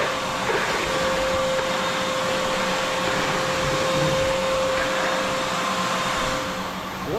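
Shop vacuum sucking up slushy melted snow from a garage floor while a car thaws, a steady, close, whining drone with a constant hum running unbroken throughout.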